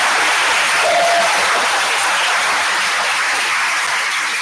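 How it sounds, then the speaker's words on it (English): Steady, dense audience applause at The Gauntlet 2024 final round, loud and sustained from start to finish with no talking over it. "can we get a big round of applause for Abby from UCLA?"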